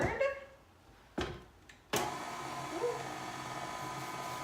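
An electric stand mixer churns chocolate chip cookie dough with a steady, close whir after a couple of sharp knocks and clunks at the start.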